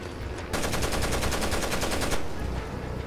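Sustained automatic fire from a machine gun in the co-op shooter Rainbow Six: Vegas 2, a rapid, evenly spaced burst of loud shots lasting under two seconds, preceded and followed by softer game ambience.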